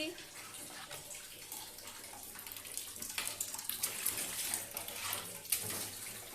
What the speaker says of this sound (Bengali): মাছটাকে ধুয়ে নুন হলুদ মাখিয়ে নিই